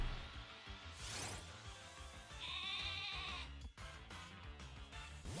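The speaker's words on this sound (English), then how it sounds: "I heard a sheep." A sheep bleats clearly once or twice with a wavering call, close and distinct, over a busy background of game music and effects with no talking.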